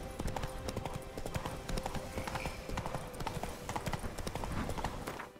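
Hoofbeats of a galloping horse in the video game The Witcher 3, a rapid steady clip-clop rhythm running throughout, fairly quiet, with no speech over it.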